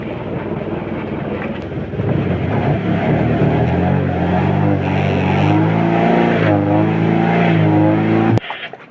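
The engine of a tuna and marlin fishing boat runs close by with a rough, throbbing drone that swells after a couple of seconds, holds steady, then cuts off abruptly near the end.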